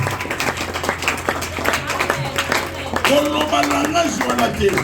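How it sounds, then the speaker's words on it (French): A church congregation applauds and cheers in praise, dense clapping spread across a lively crowd, with voices and sung or shouted tones rising over it toward the end. "le vrai acclamation pour le roi de gloire"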